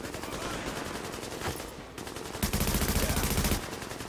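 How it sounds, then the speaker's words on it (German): Automatic weapon fire in Tom Clancy's The Division as a magazine is emptied: rapid, loud bursts of shots, with the densest continuous stretch near the end. "Lass ihn das Magazin leer schießen"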